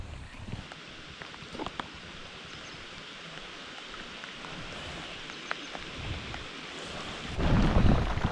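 Heavy rain pours down outdoors beside a creek during a fishing trip, a steady dense hiss throughout with a few scattered drop taps, swelling louder and heavier near the end; no talking.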